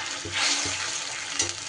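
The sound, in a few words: ginger, green chilli and tomato paste frying in a pan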